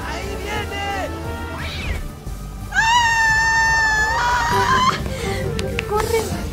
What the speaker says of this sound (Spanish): ¡Novato, saque al gato de la cocina!